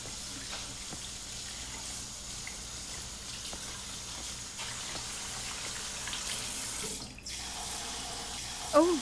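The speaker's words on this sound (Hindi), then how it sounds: "ओह सॉरी, मैंने तुम पे पानी उड़ाया।" A water tap runs steadily, a soft continuous splash and hiss at moderate distance for most of the stretch, ending with a brief louder splash, with faint voices in the background.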